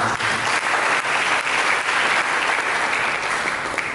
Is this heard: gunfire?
no